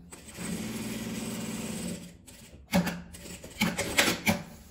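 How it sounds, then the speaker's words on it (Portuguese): A sewing machine stitches a fabric storage box, humming in a steady close run for about two seconds, then short bursts of stitching as the seam is backstitched; no speech. "Eu dou um retrocesso. E venho costurando."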